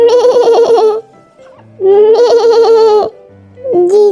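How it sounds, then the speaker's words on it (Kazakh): A goat bleats loudly and close by in three long, wavering calls with brief pauses between them, the last call cut short at the end. "Бұл ешкі."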